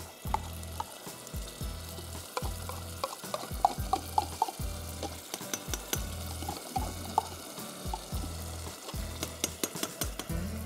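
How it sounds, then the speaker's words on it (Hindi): A fish mixture with yogurt fries in a pan, a soft, fairly quiet sizzle broken by repeated rhythmic stirring and scraping strokes, with no voices. "इसको अच्छी तरह से हमें भूनना है"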